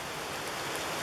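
Rain falling on a campsite, a continuous broadband hiss of drops that stays even and fairly loud through a short stretch, with no voices.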